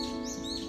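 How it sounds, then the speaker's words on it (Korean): Birds chirp faintly in the background at a quiet house, with thin high tweets drifting over a steady low hum. "아이고좋아새소리나네"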